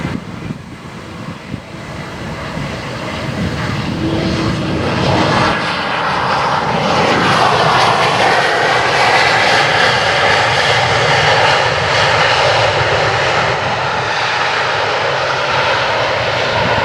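A Bombardier CRJ jet on final approach to the runway, its engine roar swelling from a quieter start into a loud, steady, broad drone that holds to the end, with no voices.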